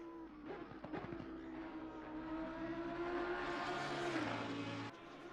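A Lamborghini GT race car in Assetto Corsa Competizione at Imola holds a steady, fairly faint engine drone that rises in pitch, then drops sharply near the end, likely a gear change or lift off the throttle.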